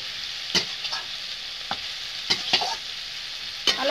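Potatoes being stirred and fried in hot oil with turmeric and salt, a steady sizzle broken by several sharp scraping stirs of a utensil against the pan.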